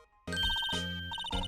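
A telephone rings in the Phoenix Wright: Ace Attorney video game, a loud electronic ring tone in repeated pulsing bursts after a brief silence, heard alone with no talk.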